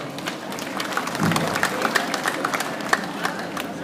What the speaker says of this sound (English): So please, a round of applause if you would for Rebecca Williams-O'Brien.